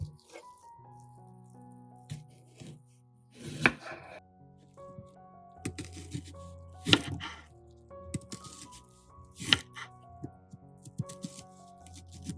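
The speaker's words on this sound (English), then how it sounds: "Take the red onion and slice it thinly, like you would for a salad" A knife slices a red onion thinly on a cutting board, about six cuts, each a crisp, close thud spaced irregularly against a quiet kitchen background.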